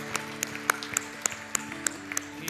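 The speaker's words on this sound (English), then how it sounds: "It's a hand clap of praise tonight." Scattered hand claps from a church congregation during an evening service, a sparse, uneven patter of sharp slaps heard alone without talk.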